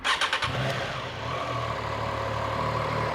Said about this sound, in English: Okay, so let me turn on the bike.